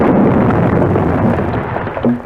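Bangalore torpedo blast tearing a gap through barbed wire on a wartime battlefield, a loud deep rumbling roar that swells and slowly fades with no voices.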